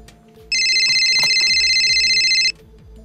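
A telephone rings once with a steady electronic tone lasting about two seconds, loud and close, with no talking over it.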